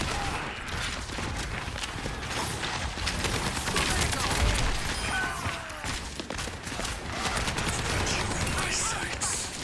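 Rapid gunfire from Soldier: 76's rifle in the video game Overwatch 2, dense continuous bursts with explosions and game effects layered throughout, under ongoing talk.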